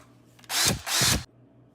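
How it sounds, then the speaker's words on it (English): Two short bursts of a power drill drilling a hole in a handle, close and loud, each lasting under half a second with a brief pause between, then quiet. "Now just go ahead and drill a hole in the handle part"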